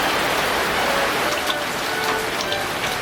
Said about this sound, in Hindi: इतनी तेज़ बारिश आ रही है